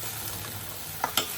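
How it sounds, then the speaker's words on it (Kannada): Tempered vegetables go into a pot of lentil sambar with a brief, steady sizzle, broken by a couple of sharp clatters near the end. "ಇದಕ್ಕೆ ಇವಾಗ ಒಗ್ಗರಣೆ ಮಾಡಿರೋಂಥ ತರಕಾರಿ ಹಾಕೋಣ"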